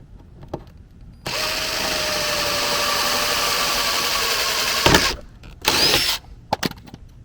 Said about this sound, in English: I already drilled my guide hole, so I'm just going to use the guide hole and keep going